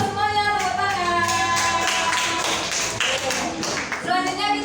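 Classroom clapping during an Al-Qur'an Hadith lesson, students clapping rhythmically in unison over a sustained tone-rich background, fairly loud and close, lasting several seconds.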